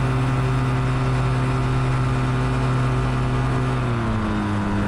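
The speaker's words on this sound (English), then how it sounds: "We'll warm up the engine with the long run down to the end of the airstrip." A Quicksilver GT400 ultralight aircraft engine warms up while taxiing down an airstrip, a loud continuous droning hum with strong steady harmonics that dip slightly near the end, with no voices over it.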